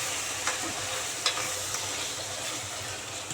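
A spoon stirs a vegetable pulao mixture in a pan over a soft, steady sizzle, with a few sharp scrapes against the metal breaking through.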